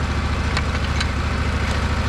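A tractor engine runs steadily nearby beside a massive pine log, a continuous low mechanical drone with a fixed pulsing rhythm and a few faint higher clicks over it.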